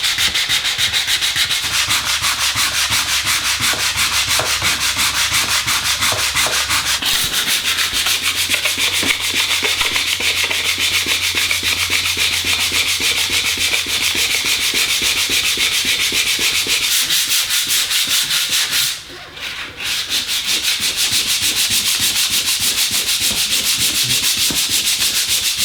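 Someone hand-sands the ends of wooden boards with 120-grit sandpaper in short, rapid back-and-forth rubbing strokes, a loud continuous rasp that runs close and unbroken apart from one brief pause.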